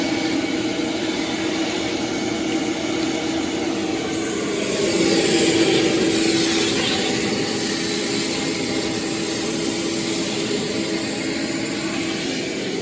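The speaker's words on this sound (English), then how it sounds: "the first thing that you're going to want to do is just a basic dry vac" A vacuum cleaner dry-vacuums the carpet inside a car with a loud, steady, close-up roar and hiss, swelling slightly midway as the nozzle moves, with no talking.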